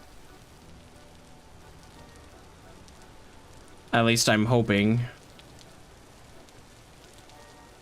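Steady rain patters in a farming video game, a soft continuous hiss throughout, with a person briefly talking over it midway.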